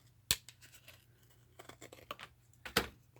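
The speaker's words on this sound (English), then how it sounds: "I'm just going to cut this piece off here" Scissors snipping off a piece of paper for a handmade altered rolodex book, a sharp cut at the start followed by a run of small crisp rustles and clicks and a second firm snip near the end, close up, with no talking.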